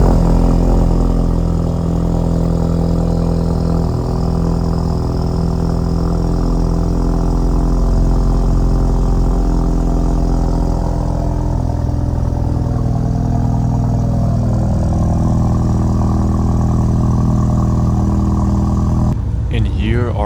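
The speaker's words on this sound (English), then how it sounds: "let's get you guys a cold start and see how it sounds" A Ford EcoBoost car fitted with a CVF downpipe exhaust idles steadily after a cold start, a loud, continuous low engine drone with a slight change in pitch near the end.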